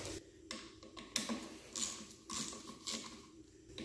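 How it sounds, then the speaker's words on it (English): Clutch spring bolts being broken loose on a 2001 Suzuki RM 250 dirt bike, a series of close, sharp ratchet clicks and metallic taps in short bursts, with a quiet workshop background. "we're going to start breaking torque on the spring bolts here"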